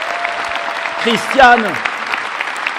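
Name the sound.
applause at political rally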